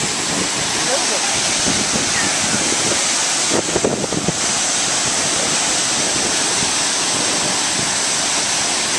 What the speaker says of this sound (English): We noticed beautiful waterfall out here.